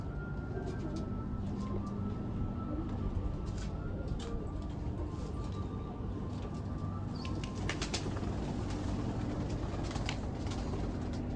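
Pigeons coo steadily on a rooftop loft, close and continuous, with bursts of wing flapping and occasional chirps over a constant background hum.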